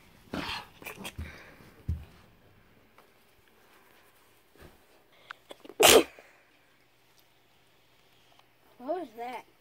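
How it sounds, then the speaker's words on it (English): A single sharp, loud sneeze bursts out close by amid scattered clicks and other noises during a game session, with voices talking at other moments. "I sneezed."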